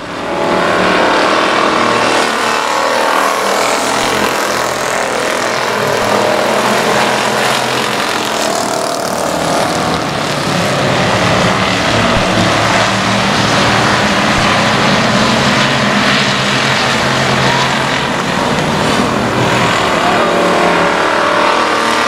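Race cars at I-37 Speedway roaring past in a loud, continuous wall of engine noise for over twenty seconds, with several cars' engines overlapping in steady high-revving drone.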